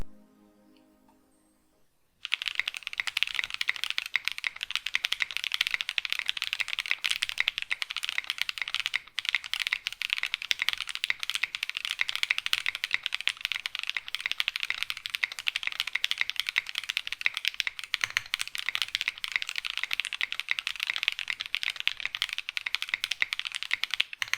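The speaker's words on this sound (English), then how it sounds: "They do sound hollow and sound like they have some scratch to them" Rapid, continuous typing on a mechanical keyboard with lubed Kineticlabs Husky linear switches, hollow and slightly scratchy, with dense clacky keystrokes close up, starting after a couple of seconds of quiet and running without pause.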